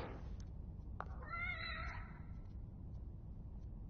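A cat meows in The Evil Within: The Assignment, one short wavering cry over a low steady background hum, fairly faint.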